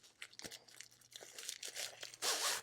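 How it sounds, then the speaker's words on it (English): A diamond painting kit package being cut and torn open with scissors, quick crinkling and tearing of plastic in close bursts, ending in a louder rip. "Get my scissors in here so I can get it open."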